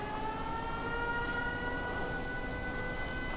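Siren in the video game Fallout 4, a steady, sustained wailing tone that holds at an even volume for the whole stretch, with no talk over it.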